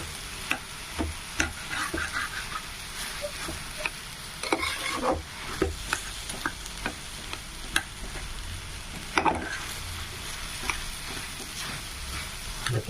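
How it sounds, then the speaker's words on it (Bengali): Vegetables for pav bhaji fry in butter, a steady sizzle broken by repeated scraping stirs of the spatula against the pan, close and continuous. "যা মাখন দিয়েছিলাম তা দিয়ে একটুখানি ভেজে নিচ্ছি"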